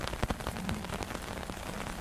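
Rain patters steadily on the fabric of a Nordisk Svalbard 1SI tent during a solo wild camp, with dense close drops drumming across the surface and no voices.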